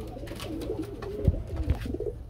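Pigeons at a pigeon farm coo in low, throaty rolling calls, close and continuous, with a few deeper thumping bursts partway through.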